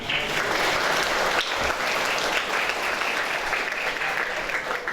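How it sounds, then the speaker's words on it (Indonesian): Steady, dense applause from a large church congregation after a choir at a Catholic Mass, sustained and loud throughout without pause. "Tepuk tangan."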